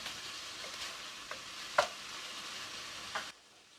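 Chopped peppers and two small habaneros sizzle in a chili pot, a steady low hiss of frying with a few soft stirring clicks, fairly quiet and without talk.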